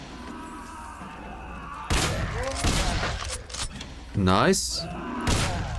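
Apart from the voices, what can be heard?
gunshots in Hyperviolent video game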